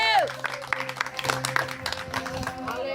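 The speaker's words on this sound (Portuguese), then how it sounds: "Você pode aplaudir a Jesus." A church congregation claps for Jesus during a sermon, scattered applause mixed with voices and shouts of praise, fairly close and uneven.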